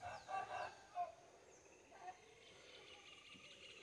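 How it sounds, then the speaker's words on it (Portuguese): A large flock of chickens on a rural farm smallholding in Brazil clucks and crows faintly at a distance, with a few short louder calls near the start over a steady hum of birds. "A imensidão de frango que tem aqui."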